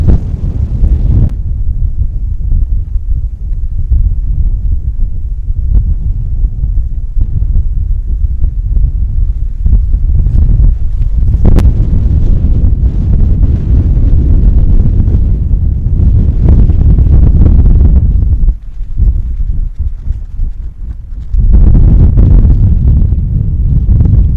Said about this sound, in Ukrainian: неймовірний вітер дує.